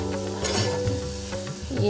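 Pav bhaji vegetables with capsicum sizzle and crackle steadily in a hot pan, close and continuous, with a few soft stirring scrapes.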